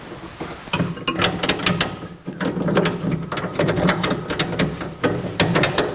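A ratchet turns a bolt into the pedal bracket under the dashboard of a 1982 Jeep CJ7, producing rapid, steady pawl clicks in close bursts throughout, with no speech.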